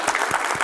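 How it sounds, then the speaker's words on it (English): A short burst of audience applause at a marketing training conference session, dense clapping from a crowd heard alone. "Let's give them a round of applause."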